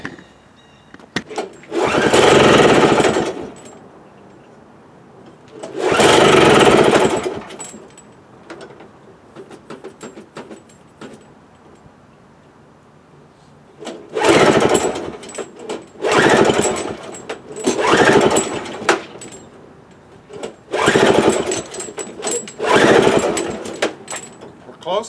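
A cheap ECHO snow thrower that wouldn't run, now with fuel flowing after a stuck float, cranks and sputters in several loud bursts of a few seconds each, separated by pauses with people talking.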